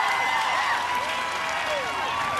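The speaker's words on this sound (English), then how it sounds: "Crowd cheering him on" A crowd cheers and applauds a contestant on an American Ninja Warrior qualifying course, a dense, loud, continuous roar of voices and clapping with whistles throughout.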